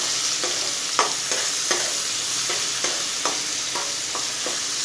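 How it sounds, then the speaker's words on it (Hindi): Onions tossed and fried in oil in a pan sizzle steadily under a series of regular spatula scrapes and taps, roughly one every half second, with no voices. "अब इसके अंदर हम डालेंगे प्याज, इसको भी हम टॉस कर लेते हैं"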